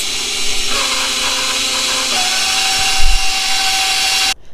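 Electric mixer on low speed churning cookie dough ingredients in a kitchen, a steady close, loud whirring drone that shifts pitch partway through before cutting off abruptly at the end.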